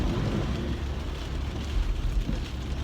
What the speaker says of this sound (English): Man, surprise, it's raining again.